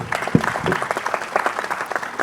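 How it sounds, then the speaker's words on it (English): Steady applause from an audience at a healthcare innovation competition fills the clip, dense clapping throughout at a moderate, even level. "Big round of applause, please."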